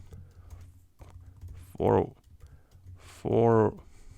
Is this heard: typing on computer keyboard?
yes